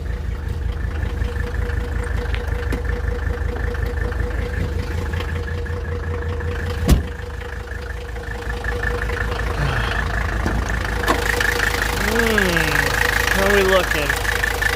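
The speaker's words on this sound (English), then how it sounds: "That engine's really jumping around though. She's idling a bit rough." Diesel engine of a Mercedes-Benz 300TD W123 idling rough after a blown hydraulic line, a low uneven chugging throughout with a sharp knock near the middle; someone speaks briefly over it.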